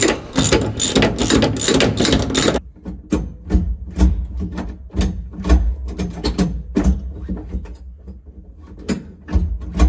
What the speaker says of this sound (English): And I'm going to need a ratchet.